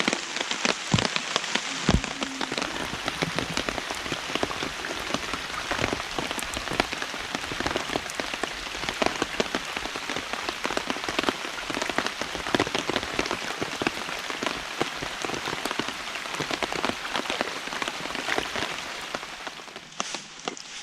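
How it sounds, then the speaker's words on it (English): Rain falls and drips from a tree onto the ground at a carp fishing spot, a dense, steady patter of close drops that continues for the whole stretch, with no talking. "although it's still raining under this tree"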